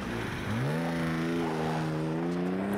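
A car engine in a video game revs and drones steadily, its pitch climbing then holding, loud and close with no voices.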